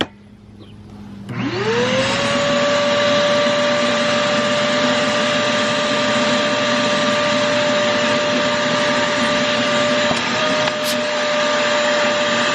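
A vacuum cleaner spins up and runs steadily and loudly, a close, continuous whirring roar with a sustained motor whine, used to suck up an insect infestation, with a brief click near the end and no talking.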